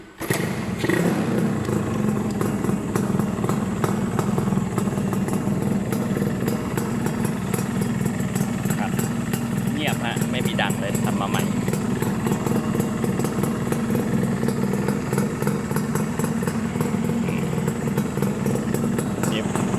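A ZR120 motorcycle engine runs at a steady idle for about twenty seconds, a close, loud, rattling putter with faint mechanical clatter and occasional background talk.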